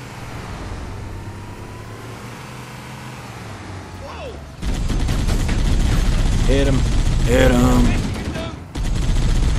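Heavy turret gunfire in Halo: Combat Evolved rattles in a loud continuous burst through the second half. It follows quieter engine and battle noise, with players talking over the action.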